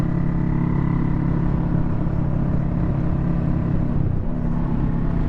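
A 2021 Kawasaki Vulcan S motorcycle engine drones loudly and steadily while riding, its pitch dipping briefly as a gear changes before pulling on again.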